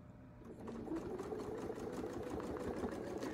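A sewing machine runs steadily, quilting feather designs guided by Westalee rulers, starting after a brief quiet moment and continuing as a fast, even mechanical whir close by with no talking.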